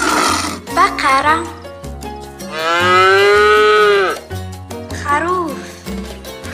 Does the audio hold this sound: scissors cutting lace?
no